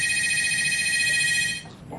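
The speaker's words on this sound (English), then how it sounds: "We're getting a real phone call." Electronic phone ringtone warbling steadily in a hospital room for about a second and a half, then cutting off, with soft room noise beneath.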